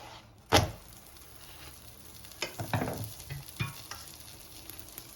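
Oiled pan with a flatbread pastry cooking, giving a soft sizzle broken by a sharp clunk early on and a few scraping, stirring knocks as it is turned, close and moderately quiet.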